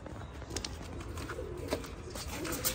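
Punjabi Malwai pigeons cooing softly from their coop, low repeated coos with a few scattered wing flutters and rustles under a constant ambient hiss, no talking heard.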